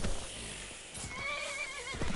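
A horse whinnies with a long wavering neigh, fairly close, over a noisy outdoor background with no talking.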